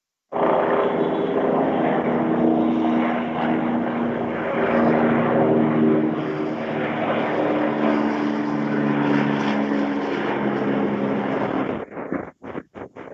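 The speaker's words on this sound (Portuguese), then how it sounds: "Eu vi um helicóptero aí do governador passando por trás." A helicopter passes overhead, a loud, steady rotor and engine drone with a rumbling low hum that lasts about twelve seconds, then cuts off abruptly into a few brief choppy bursts.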